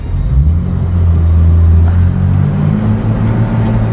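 A classic Aston Martin DB5's engine rumbles loudly and steadily up close, with a deep low drone that rises slightly in pitch partway through as the car picks up speed.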